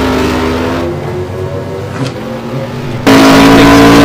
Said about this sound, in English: Lauren is racing the Nissan R35 on Michelin tires.